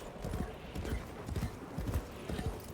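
Horse hooves gallop in the video game Warframe, riding through Duviri, with a steady, fast clip-clop rhythm of repeated thuds close up and fairly loud.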